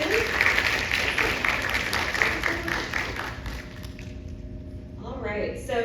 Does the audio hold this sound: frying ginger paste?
no